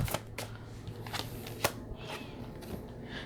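Tarot cards being shuffled and drawn: a run of soft, papery riffles and sharp flicks, with one crisp snap near the middle. Close and moderately quiet, with no voices.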